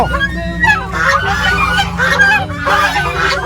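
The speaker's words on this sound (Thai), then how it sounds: "นี่ห่านห่าน" Several geese honk loudly and repeatedly nearby at a farm's goose-feeding spot in Pathum Thani, Thailand, overlapping calls in an irregular burst.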